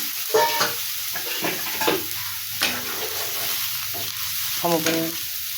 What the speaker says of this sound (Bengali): এখন বন্ধুরা আমি জল দেবো, খুব বেশি জল দেবো না, সম পরিমাণ